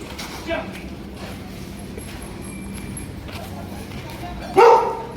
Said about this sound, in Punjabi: ਇਹ ਕੁੱਤਾ ਕਿਹੜੀ ਨਸਲ ਦਾ